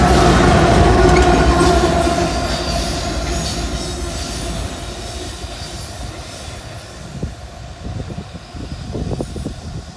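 A freight train with a rear DPU rumbles past close by, loud at first and easing into steady rolling wheel noise with faint squeals and clatter toward the end.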